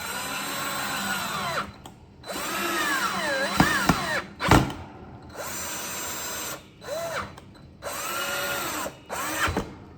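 A power drill drives screws to mount a 26-inch industrial wall fan, its motor whining up and down in several close, loud bursts with short pauses and a few knocks between them.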